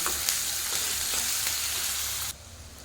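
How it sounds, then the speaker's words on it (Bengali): Boiled chow mein noodles stir-fried in a home kitchen pan, a steady close sizzle with a few scraping stir strokes, dropping quieter near the end. "নাড়িয়ে চাড়িয়ে ভাজাভাজি করে নেব, তবে সম্পূর্ণ ভাজবো না।"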